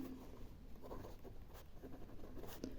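Quiet scratching strokes of writing out a geometry proof about congruent triangles, with short irregular scribbles and pauses over a steady room hiss and no speech.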